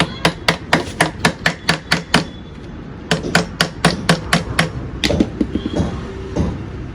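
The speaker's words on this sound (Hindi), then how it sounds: "हथौड़ी।" A chamber hammer strikes repeatedly to open a jammed KTM Duke/RC 200 motorcycle engine kit, two fast runs of sharp, loud, evenly spaced metallic blows close by, then a few lighter knocks.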